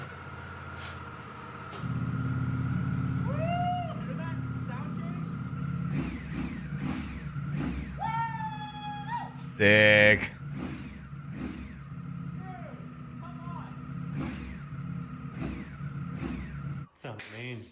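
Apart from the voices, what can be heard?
motorcycle engine running and revving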